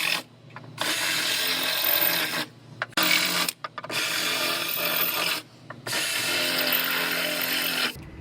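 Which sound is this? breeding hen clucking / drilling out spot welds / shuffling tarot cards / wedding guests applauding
drilling out spot welds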